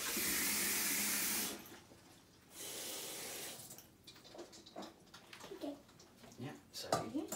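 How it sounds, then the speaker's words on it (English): Cold tap water pours into a container in two short bursts, a loud hiss of running water, followed by quieter clinks and handling noises as the flow stops. "we're going to put some cold water in this"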